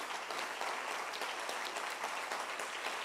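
Sustained, strong applause from a church congregation, many hands clapping in an even, dense roar that holds steady from start to finish.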